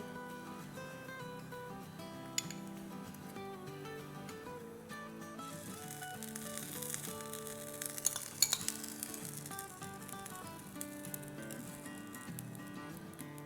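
A roti laid upside down on a pan with a small drizzle of oil sizzles steadily and softly throughout, with occasional light clinks of a utensil against the pan.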